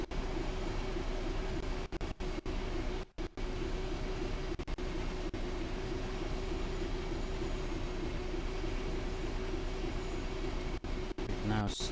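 A class 377 electric train runs in Train Sim World 5 with a steady, loud rumble and hum that holds throughout, broken by a few brief clicks and one short dropout.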